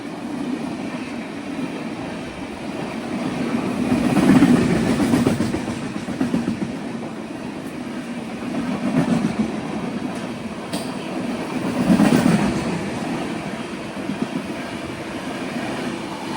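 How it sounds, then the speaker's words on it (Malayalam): Gurudev Express running on the rails from Howrah toward Tiruchirappalli, a steady loud rumble of wheels on track with periodic swells as carriages roll over joints, no voices. "കൊൽക്കത്തയിലെ ഹൗറയിൽ നിന്നും തിരുച്ചിറപ്പള്ളിയിലേക്ക് പോകുന്ന എക്സ്പ്രസ്"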